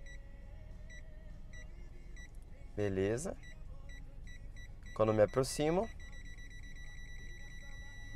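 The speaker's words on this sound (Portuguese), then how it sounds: "quando o sensor detectar o obstáculo, ele vai começar a emitir os bips sonoros." A Chevrolet Onix's parking sensor beeps in faint, regular pulses that later merge into a steady tone as an obstacle nears, while someone talks over it.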